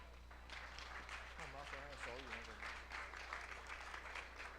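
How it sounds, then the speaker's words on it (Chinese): An audience at a church Christmas evening party claps together, making a continuous patter of hands. A voice carries over the clapping. "我们掌声鼓励鼓励"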